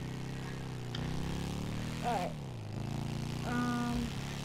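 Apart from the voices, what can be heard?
helicopter flying in the video game Grand Theft Auto V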